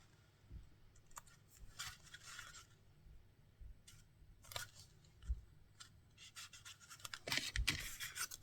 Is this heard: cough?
no